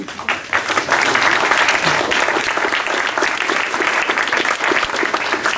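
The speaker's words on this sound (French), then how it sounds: "Je crois qu'on peut les applaudir." Sustained applause from a crowd, dense steady clapping that fills the whole stretch without pause.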